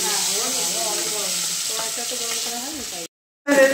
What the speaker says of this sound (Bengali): পিসি ভাজছে মাছ ভাজা